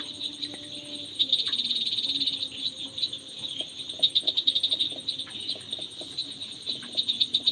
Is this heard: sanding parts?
no